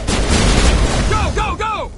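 Brief burst of heavy gunfire in the Mass Effect video game, loud and dense, with a voice shouting through the end of the barrage.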